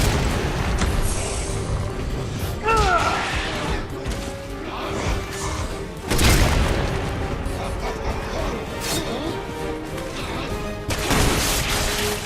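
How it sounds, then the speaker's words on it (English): A grenade blast from the Resident Evil 6 video game, several heavy booming crashes and mechanical clatter in a dense, loud game soundscape with repeated impacts. "Didn't want to use a grenade on that guy, but I was too close to him."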